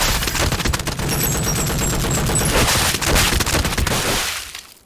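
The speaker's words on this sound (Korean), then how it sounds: "다행히 비샤의 도움으로 폭발을 멈췄고 주인공이 연발을 하며 마무리 짓습니다" Rapid automatic gunfire rattles continuously in an anime battle scene, a loud dense burst of shots lasting several seconds before fading away at the end, with no talk.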